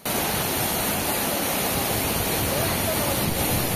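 Chaulabhaja waterfall pouring down forcefully, a steady dense roar of falling water that stays loud and unbroken throughout, with no voices.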